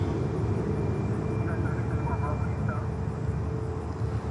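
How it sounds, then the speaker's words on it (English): A Southwest Boeing 737 MAX 8 departs runway 10 Left at Fort Lauderdale-Hollywood International Airport, its engines producing a steady, loud, broad roar that holds throughout. "Southwest. Departing next here on runway 10 left."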